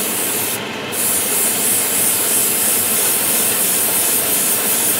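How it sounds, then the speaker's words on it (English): Airbrush spraying single-color paint around a model's wheel wells, a steady close hiss that dips briefly near the start, then runs on unbroken with no talking. "So when you're spraying, you go past each area"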